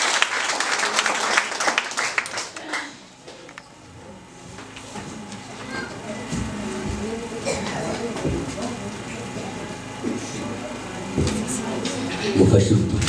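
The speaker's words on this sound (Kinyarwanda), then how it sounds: "Amashyi menshi cyane" Wedding guests at a religious church ceremony break into applause, a dense wash of clapping that swells and fades over the stretch, mixed with voices and room noise.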